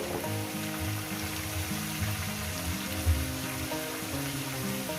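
Bitter gourd and pumpkin fry in a pan with a steady, soft sizzle that runs throughout beneath continuous background music.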